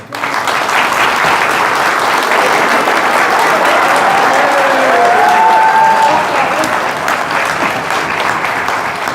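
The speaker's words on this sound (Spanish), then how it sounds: "Un aplauso para el Padre." A congregation applauds a priest at a Catholic gospel gathering, sustained dense clapping from many hands that stays loud and steady for several seconds, with faint voices and a brief tonal sound mixed in.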